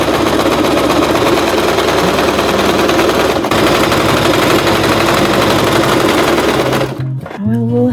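A sewing machine stitching fabric for a patchwork journal cover, a loud, fast, steady mechanical whirring chatter that runs nearly nonstop, then halts near the end as a voice speaks.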